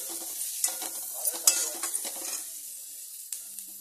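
Masala and chopped capsicum fry in a pan, with a steady sizzle under repeated scraping stirs of a spoon against the metal that fade toward the end.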